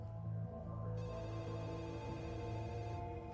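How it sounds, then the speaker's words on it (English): Telephone ringing with a steady electronic tone that pauses and resumes, faint and set against a low background hum. "The phone just kept ringing."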